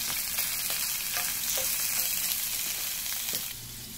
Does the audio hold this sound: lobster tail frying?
yes